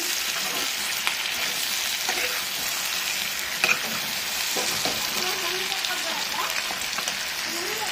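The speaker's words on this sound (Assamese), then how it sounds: "চাওক এতিয়া মই ইয়াত কোমোৰাখিনিও এড কৰি দিলোঁ এতিয়া মই অলপ এনেকৈ ভাজি ৰাখিম" Potatoes and pumpkin fry in a pan, a dense continuous sizzle with scattered crackles and occasional utensil scrapes, close and steady throughout.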